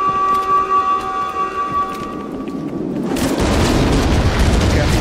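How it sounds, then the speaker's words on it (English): Grenade explosion in the video game Contractors Showdown: steady tones and background game noise give way midway to a loud, broad rumbling blast that swells and lingers to the end, with no voices. "Grenade out."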